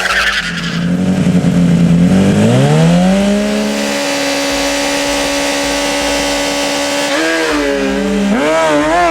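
Kawasaki ZX-10R 2011 stock sport bike launching down a drag strip, its engine screaming up through rising gears in a loud, continuous run with sharp pitch drops at each shift, recorded alone without talk.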